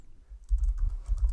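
Fast typing on a computer keyboard at a Mac, a dense burst of close, crisp key clicks and thumps that starts after a brief quiet moment, with no voices.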